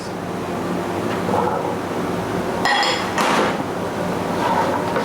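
Carrots, potatoes and chickpeas are dropped into a cooking pot, with a couple of clunks and clinks against the pot midway through over a steady kitchen background.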